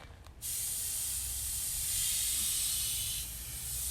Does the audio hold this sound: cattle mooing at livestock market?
no